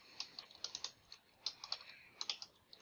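Quiet, rapid keyboard typing on a computer while entering a task title in an automation setup, with irregular clusters of soft key clicks and no talking.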